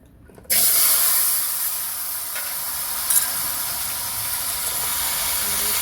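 Potatoes fry in hot oil with a little turmeric for a fish curry, starting with a sudden loud, steady sizzle that holds evenly to the end with no talking.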